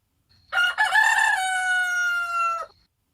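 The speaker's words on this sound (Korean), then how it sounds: "닭이 운다." A rooster crows once, a single long, loud cock-a-doodle-doo close by that holds its pitch before trailing off, with nothing else around it.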